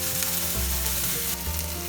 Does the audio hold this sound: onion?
yes